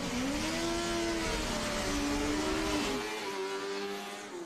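A Formula SAE race car launches off the line at an autocross event, its high-revving engine climbing and shifting in a loud, steady rising whine that fades slightly toward the end as it pulls away.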